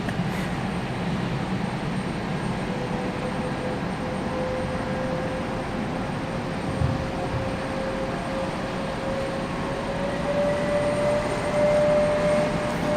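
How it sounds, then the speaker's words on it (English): Delta airliner taxiing out onto the runway at Raleigh-Durham International, a steady distant jet engine rumble and whine with a thin rising tone, continuous and moderately loud throughout. "Delta moving its way out onto the runway"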